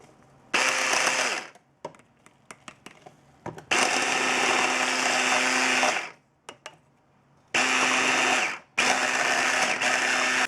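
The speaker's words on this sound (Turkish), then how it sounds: "sütümüzü ve unumuzu da ekleyip e, karıştıralım." Pancake batter of milk and flour being mixed with an electric mixer, loud whirring bursts of a few seconds each, separated by pauses holding light clicks and knocks, close with no talking.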